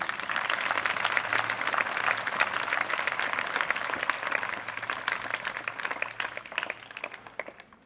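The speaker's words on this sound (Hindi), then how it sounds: "इन सभी कलाकारों का मान सम्मान बढ़ाने के लिए जोरदार ताली बजाई।" Sustained, dense audience applause at a stage play fills the whole stretch, many hands clapping steadily at close range before tapering slightly at the end.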